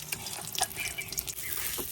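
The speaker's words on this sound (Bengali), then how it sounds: "এখন যেই আলুর পুর বাকি ছিল একটু এটা একটু তেলের মধ্যে গরম করে নিলাম।" Potato puri filling warms in hot oil in a home village kitchen, giving a soft, steady sizzle with light stirring scrapes and clinks across two seconds, fairly quiet and close, with no voices.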